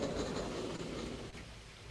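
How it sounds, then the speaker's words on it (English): Rain falling into water outdoors, a soft continuous patter and hiss, faint and steady throughout with no voices. "Y'all hear the rain in the water?"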